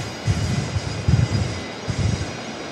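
The engines of a Link Airways Saab turboprop during a go-around at Brisbane Airport come through as a low, pulsing drone that surges in a few uneven swells.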